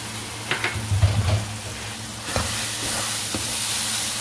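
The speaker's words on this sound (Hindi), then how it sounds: "तो इसको मैं 5 मिनट तक फ्राई करूँगी अच्छी तरह" Spice masala with salt and turmeric frying in a pan for a spicy chicken and capsicum dish, with a low steady sizzle and a few brief stirring scrapes near the start, no voices.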